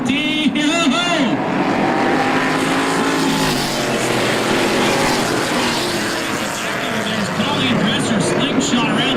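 A Charger class race car, Guernsey Racing #14, roars along a racetrack at the start of a feature race, its loud engine rising and sweeping past under an announcer's voice.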